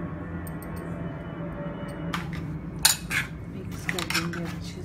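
Chicken marinade for Afghani chicken being mixed in a bowl, with quiet background hum at first, then clinking and scraping of a spoon against the dish in short irregular bursts.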